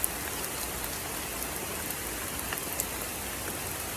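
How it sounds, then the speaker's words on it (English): Steady rain pouring outdoors where sausage and hamburger patties are being cooked, a dense, even hiss of drops on surfaces with a few brighter pattering hits, continuous and alone without talk. "This rain passes."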